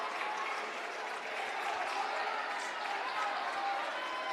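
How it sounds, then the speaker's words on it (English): Steady crowd applause fills a high school basketball gym during the Rossville vs Taylor game, sustained and fairly distant, with faint voices mixed into the clapping. "Harris clapping in the direction of the Rossville fans"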